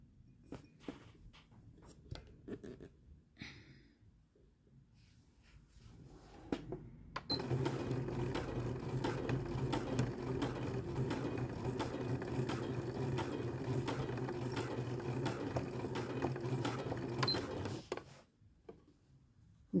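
A sewing machine runs at a slow pace while stitching a lap zipper, a steady close mechanical whir and rapid needle chatter lasting about ten seconds, with quieter handling noises before and after.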